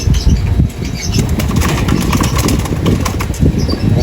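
Wings flap in a noisy flurry as several racing pigeons land close by at their loft, a rushing, fluttering clatter lasting the whole time with no voices.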